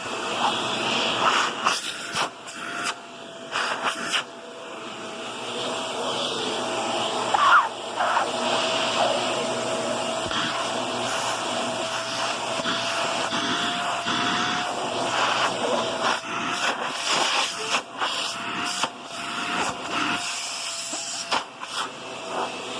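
A Shark Navigator NV22L upright vacuum cleaner runs on a floor with a loud continuous motor whine and suction roar, close and steady, with brief bumps and shifts as it moves.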